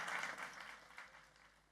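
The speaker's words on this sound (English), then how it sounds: "let's give them a round of applause for all their hard work." Graduation audience at Elmore Stoutt High School gives a round of applause, a faint, distant wash of clapping that fades over less than two seconds.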